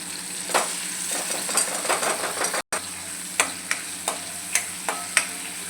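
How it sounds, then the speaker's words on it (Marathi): Tomato gravy sizzles as it hits ginger garlic paste frying in a pan for spiced black chickpeas, with steady frying hiss, scraping stirs, a brief dropout, then several sharp spoon clinks. "आता यात आपण टमाट्याची ग्रेव्ही टाकून घ्यायची।"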